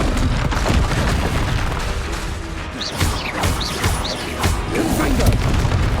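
Fiery blasts and crashes from the Confringo spell in the game Hogwarts Legacy erupt repeatedly amid dense, loud combat noise, with several sharp impacts over a continuous rumbling bed.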